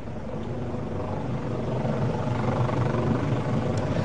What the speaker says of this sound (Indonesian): Ya, Prita, yang sedang Anda saksikan ini adalah helikopter yang baru saja landing.